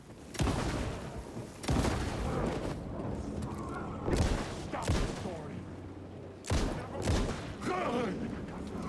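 Bursts of gunfire crack out in a shooter sequence from the video game Alan Wake II, several loud volleys spaced a second or two apart, with a voice talking over the shots.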